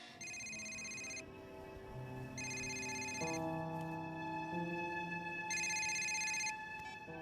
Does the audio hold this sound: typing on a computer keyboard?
no